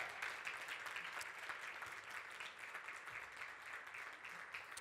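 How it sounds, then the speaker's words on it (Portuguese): A church or seminar audience breaks into steady applause after a closing prayer, a continuous wash of clapping that sounds distant and faint. "Pode aplaudir."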